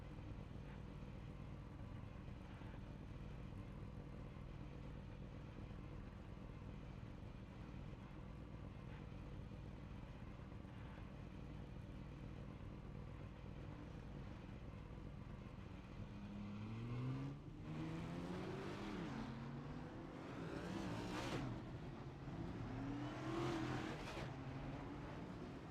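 Race cars idle on the starting grid in a racing game, a steady low engine drone that later rises into several revving, accelerating engines sweeping up in pitch, fairly faint.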